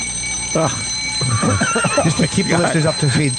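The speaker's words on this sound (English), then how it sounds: "If I'm retired, what do I need an alarm clock for?" Alarm clock ringing on a TV show, a thin high electronic tone running constantly under loud close talk from a man.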